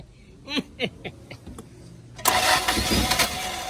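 A 1979 Toyota Corolla Deluxe engine cranks in several short bursts, then catches and roars into a loud, rough, sustained run, close by and with no talk over it.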